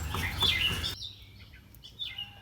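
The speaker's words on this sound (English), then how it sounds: "I don't know if you guys can hear that crazy bird in the background." Springtime songbirds chirp outdoors near a car brake job, a bright burst of repeated high tweets up close at first, then fainter scattered calls and a thin sustained whistle after a sudden drop in background noise.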